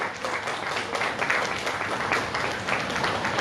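Audience applause at a cyber safety workshop for parents, a dense, steady wash of clapping hands that holds at an even, fairly loud level throughout.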